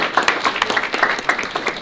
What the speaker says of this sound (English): You guys all deserve a big round of applause.